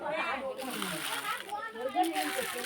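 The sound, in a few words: water poured while a child washes hands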